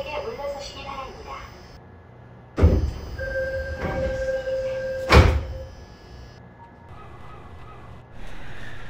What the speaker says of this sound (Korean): 출입문 닫습니다. 출입문 닫습니다. 안전하게 물러서시기 바랍니다.